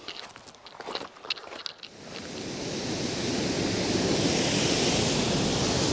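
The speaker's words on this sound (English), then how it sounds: "I do hope you can hear me okay with the noise of the waterfall." Weymouth Force waterfall in the Yorkshire Dales after heavy rain, a dense, steady roar of falling water that swells in and stays loud and continuous, with a few rustling footsteps at the start.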